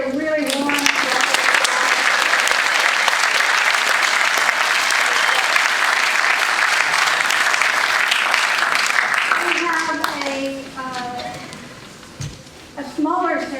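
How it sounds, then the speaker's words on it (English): Warm, sustained applause from an audience at a university architecture event, dense and loud for about ten seconds before thinning out, with a voice speaking over it near the end. "Can we give everybody a really warm applause?"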